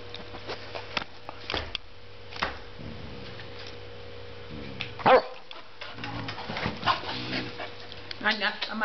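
Pet dogs bark in short sharp yips, whimper and pant indoors, with scattered loud bursts as people talk over them throughout.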